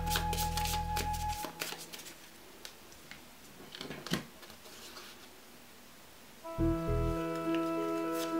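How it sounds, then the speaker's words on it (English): Two piles of cards for the Bulwark card game are shuffled in a few soft riffling bursts, quiet and brief, framed by tonal music before and after. "and the two piles are shuffled"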